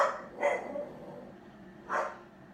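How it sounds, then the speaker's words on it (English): A house dog barks at the mail arriving, two sharp, fairly loud barks about a second and a half apart, indoors with no talking. "I guess the mail's here because my dog won't shut up."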